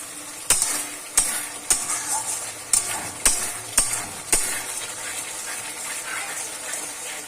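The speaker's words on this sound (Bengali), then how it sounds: "দারুণ লাগছে মাছগুলো ভাজা দেখতে।" Fish sizzles steadily in hot oil, punctuated by seven sharp metallic taps at regular intervals before the frying continues alone.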